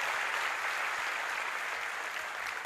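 An audience at a large religious gathering in Maharashtra clapping together, a dense, steady wash of applause that holds evenly, heard from a distance with no clear voices.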